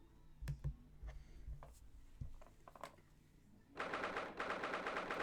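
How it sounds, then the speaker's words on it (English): Rapid typewriter-style clicks as text appears in The Great Ace Attorney Adventures, a steady burst of close, fast ticks over a quieter stretch of sparse taps and soft game sound. "I like the sound effect that they're using for the, it's more like a typewriter as opposed to like, a more modern device"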